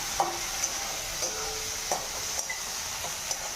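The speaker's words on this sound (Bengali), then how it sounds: "কি রান্না করছো আজকে? সাবুর খিচুড়ি।" Sabudana khichdi cooks in a pan with a steady hissing sizzle and a few light scrapes and taps of a spoon, fairly close, with no voices.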